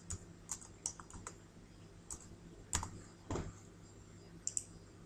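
Scattered clicks of a computer keyboard as an IP address is typed into a storage iSCSI initiator, sparse and fairly quiet, with irregular gaps between keystrokes and no talking.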